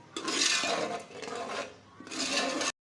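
Masala for curry pakoras roasting in a pan, a close, loud sizzling hiss in two long bursts separated by a brief lull, with no talking.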